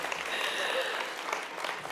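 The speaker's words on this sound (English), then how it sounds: "give it a clap and a clap of encouragement" Audience members at an Innovation Week pitch event clap in encouragement, a brief even patter of hands with some murmur mixed in.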